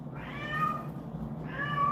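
A cat meows twice in the background, each call drawn out and tonal, the second rising near the end, heard over a quiet room where a crab imitation fly is being tied for redfish.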